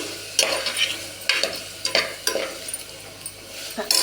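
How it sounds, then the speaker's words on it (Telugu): Raw banana curry fries in a pan while being stirred over low to medium heat, with a constant soft sizzle and repeated scraping strokes at an uneven rhythm. "ఇవి వేగుతూ ఉంటుంది ఇలాగా కొంచెం కలుపుతూ ఉండాలి"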